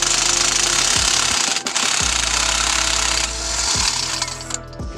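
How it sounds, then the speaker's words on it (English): A power tool loosens car exhaust Y-pipe parts on a Lexus IS300, hammering in loud continuous rattling bursts with several short pauses where the rhythm stops and restarts, close and harsh. "Love power tools."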